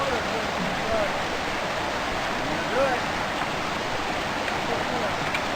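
A creek runs over rocks in a steady, close wash of rushing water, even and unbroken, with faint splashes rising briefly over the constant flow.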